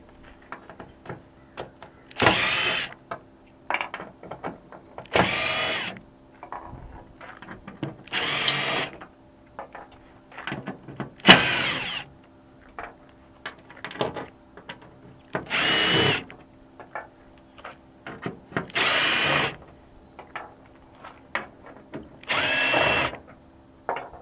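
Cordless power drill backing star screws out of the tailgate panel on a Ram 1500 pickup, heard as seven short, loud bursts spaced a few seconds apart with quieter clicks and handling between them.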